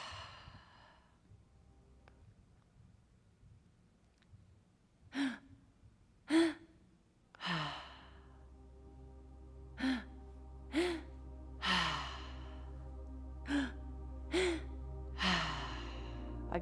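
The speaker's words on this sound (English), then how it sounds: "Keep breathing." Group active breathwork session set to music, with a run of sharp audible inhales and sighing exhales repeating every second or so over a steady low drone, fairly quiet and close, with no talking.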